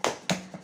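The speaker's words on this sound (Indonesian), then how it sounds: "Kasih tepuk salut buat Ibu Fatimah." Group 'tepuk salut' clapping during a community health training session: two sharp, close claps in quick succession, then a softer third, in a short rhythmic pattern.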